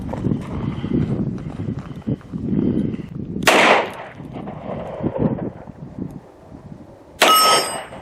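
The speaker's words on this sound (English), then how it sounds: "let me try this Ruger at the steel plate" A Ruger LCR .38 Special revolver is fired at a steel plate outdoors, giving two sharp loud shots several seconds apart, each followed by a metallic ring from the plate, with quiet shuffling and handling between.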